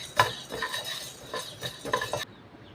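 Gram being dry-roasted and stirred in a pan, with repeated scraping and clinking strokes of a utensil against the metal at an uneven rhythm, close and moderately loud with no talk.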